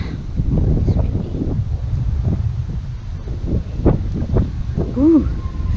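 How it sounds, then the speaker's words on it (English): Wind gusts buffet the microphone at an outdoor campsite in a steady low roar, with a few brief sounds breaking through near the end. "Windy. It's windy."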